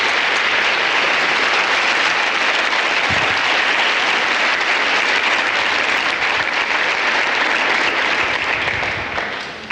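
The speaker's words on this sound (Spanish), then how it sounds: "Denle un aplauso al Señor," Church congregation bursts into loud, sustained applause, a thick continuous wash of many hands clapping that holds steady before tapering off at the very end.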